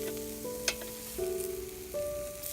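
Hamburgers sizzling on a Lodge Sportsman cast iron charcoal grill, a steady close hiss with no speech, a sharp click partway through and tonal hum underneath.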